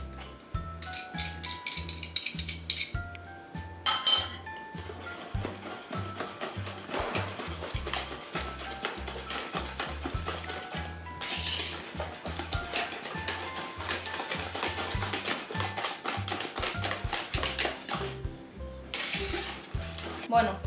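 Red velvet cake batter with vanilla extract being mixed in a bowl, a continuous soft wet stirring and scraping that runs on steadily for the whole stretch.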